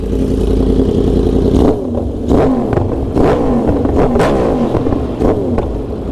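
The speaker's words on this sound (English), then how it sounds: "since I'm the only one in here, let me rev her." A Yamaha R1 sport bike engine revs hard up close at night: a loud sustained roar drops off, then several sharp rising blips follow in quick succession.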